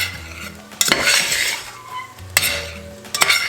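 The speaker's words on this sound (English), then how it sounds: "let's give it a nice stir." Cooked basmati pilau rice with cumin being stirred in a pot, a spoon scraping and clinking against the metal in three distinct bursts, close and clear, with no talk.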